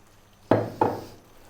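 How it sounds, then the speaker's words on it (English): Water poured into a pan of Indian fish curry over raised heat, two short splashing bursts close by, each fading quickly, with no talk over them. "we're going to get some water in there"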